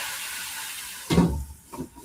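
Cayenne pepper sizzles in an overheated pan: a steady hiss runs throughout, then a louder burst of spitting steam, and a brief second flare near the end.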